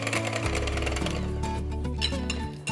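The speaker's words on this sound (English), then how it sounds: "I'm going to mix that on slow speed till it's nicely incorporated and the mixture is nice and smooth as well" An electric mixer runs on slow speed, blending egg into red velvet batter with a continuous, even motor whir that dips slightly just before it stops.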